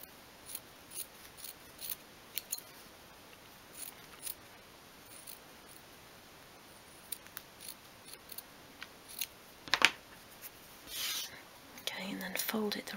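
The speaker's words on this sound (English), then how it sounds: "So just go around and trim the hem off a bit." Small scissors snip quietly and repeatedly, trimming a fabric hem for a 1/12 scale miniature sofa, the soft cuts spaced irregularly over faint background hiss, with a soft whispered voice now and then.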